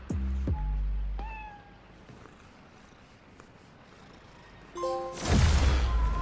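A cat meows several times in Spider-Man: Miles Morales, a few short clear calls near the start, then a quiet stretch before a burst of louder game sounds and tones at the end.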